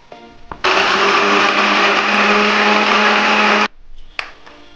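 A kitchen blender grinds ginger, six garlic cloves and a chopped tomato into paste, one loud, steady, continuous whir lasting about three seconds that then cuts off, followed by a few faint clicks.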